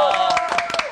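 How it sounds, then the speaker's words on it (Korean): Brief audience clapping during a Korean daytime talk show, a few quick claps heard under a sustained tone and overlapping voices, close and moderately loud. "일단 박수 박수"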